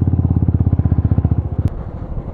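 A motorcycle ridden fast on a bad road, close and loud, its engine pulsing in rapid regular beats that slow and fade near the end.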